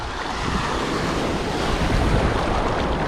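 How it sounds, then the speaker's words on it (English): An ocean wave rolls in and breaks with a loud, continuous wash of surf that swells slightly toward the end, mixed with heavy wind buffeting the microphone. "Look, here comes a wave."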